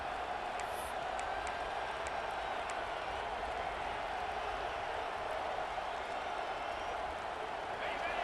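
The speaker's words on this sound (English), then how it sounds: "listen to this crowd noise. This stadium is vibrating" A dense, constant roar of a large crowd fills a video game college football stadium, steady and loud throughout, with voices talking over it.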